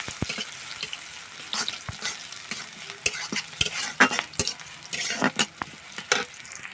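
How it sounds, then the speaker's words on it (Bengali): Onions fry lightly in a pan, a soft sizzle broken by repeated scraping and stirring strokes of a spatula at an uneven pace, close and fairly clear. "পেঁয়াজটাকে আমি হালকা ভেজে নেব। বেশি ভাজা যাবে না, এটাকে হালকাই ভাজতে হবে।"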